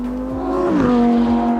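A Lamborghini Huracan Evo drives around the Bahrain F1 circuit, its loud, close engine holding a sharp, steady tone that dips briefly at a gear change before settling into a strong note again.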